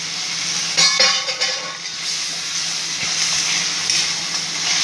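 Green peas frying in a pan of spiced masala for matar paneer gravy, a steady close sizzle with occasional spoon scrapes and clinks against the pan as the mixture is stirred.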